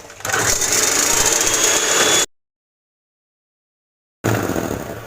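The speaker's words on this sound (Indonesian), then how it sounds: "Sekarang kita akan mixer telur putihnya sampai dia putih mengental dan kaku ya" Electric mixer beating egg whites, a steady high mechanical whir with buzzing motor tone, running loud, then cutting out completely for about two seconds before starting again.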